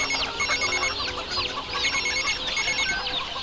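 Phone ringtone sounding during a call, a bright repeating chirpy melodic pattern in quick bursts, moderately quiet with no talk over it.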